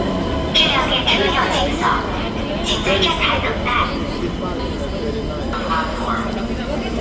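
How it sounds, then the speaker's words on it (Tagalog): A train pulls into Narita Airport station with a steady rumble and rail noise, while people talk close by over the top of it. "Ito na yung train."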